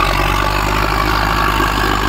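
An ACE DI 6565 tractor engine pulling an 11-tyne big tiller runs steadily at close range, a constant low diesel drone with no breaks or rise in pitch.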